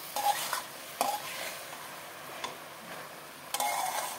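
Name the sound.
stirring pumpkin greens cooking in a pan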